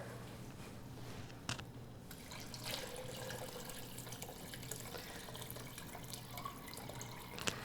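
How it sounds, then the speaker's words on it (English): Water from a tap runs steadily into a KitchenAid mixer bowl used as a measuring bowl, eight cups for lasagna soup, a continuous close splashing fill with a few small clinks. "So I'm gonna put in 8 cups of water."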